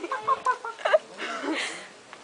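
A human voice imitates a chicken, giving a few short, sharp clucks in quick succession followed by a softer, breathy trailing sound during playful mock fighting.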